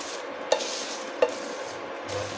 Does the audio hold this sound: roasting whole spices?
yes